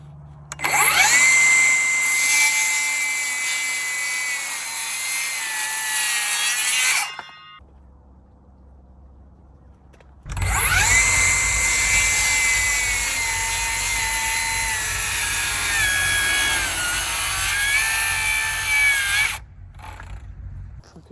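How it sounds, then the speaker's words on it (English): A Sawzall reciprocating saw cuts through wood, finishing cuts a circular saw could not get through, in two loud sustained bursts of about seven and nine seconds with a short pause between. "we will have to finish our cuts with the Sawzall"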